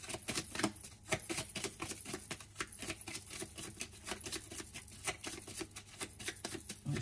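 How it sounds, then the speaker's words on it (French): Oracle cards being shuffled and drawn from a deck, a dense run of soft papery taps and flicks at close range, quiet and steady, with no voices. "Donc on va prendre déjà une première carte."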